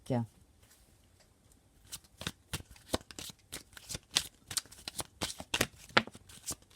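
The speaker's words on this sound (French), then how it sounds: "j'ai des cartes qui tombent partout" Oracle cards are shuffled in a quick run of crisp riffling flicks and slaps, with a few cards dropping loose, close and fairly loud.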